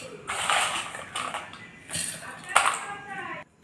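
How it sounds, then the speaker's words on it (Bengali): Crushed Happy Happy biscuits are pounded in a small mortar, giving three rough, gritty bursts of crunching and grinding at a steady rhythm, close and moderately loud, with quieter scraping between them. "আমি টুকনির মধ্যে দিয়েছি, একটু টুকে নেব।"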